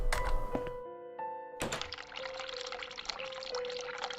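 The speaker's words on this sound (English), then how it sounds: "Turn the cold water on." Cold tap water runs into a sink in the video game The Cat Lady: a few clunks and tonal chimes, then a steady rushing gush of water that continues to the end.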